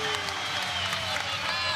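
A raucous crowd cheers and roars throughout a men's college volleyball championship match between Loyola Chicago and Ball State in Muncie, a steady, dense wash of arena noise with no breaks.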